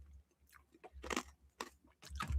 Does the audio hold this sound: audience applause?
no